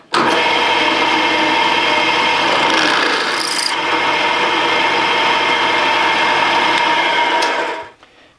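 A loud, steady drill whine grinds continuously for about eight seconds, close up, boring an 8mm hole, then cuts off abruptly.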